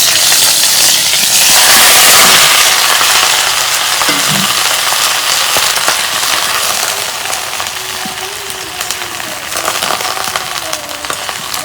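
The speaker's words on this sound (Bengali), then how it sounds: "তেল গরম হচ্ছে, প্রথমে আমি ফুলকপিগুলা ভাইজে নেব" Cauliflower pieces fry in hot oil in a kadai, producing a loud, continuous hissing sizzle with a few faint clinks, easing slightly over time, with no talking.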